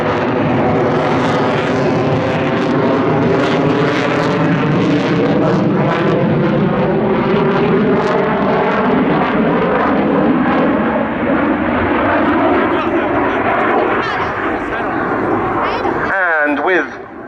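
A display aircraft performs aerobatics at Yeovilton Air Day 2017, its loud engine drone shifting in pitch as it passes, with a commentator talking over it before the sound cuts off abruptly near the end.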